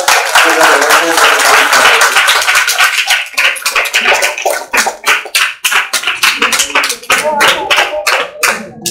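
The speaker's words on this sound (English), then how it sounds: "I think let's give a big round of applause." A corporate gathering opening a photo exhibition breaks into applause, a loud crowd of clapping hands that starts dense and thins into separate, sharper claps toward the end, with some talk underneath.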